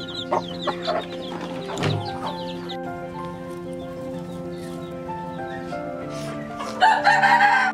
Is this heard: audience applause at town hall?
no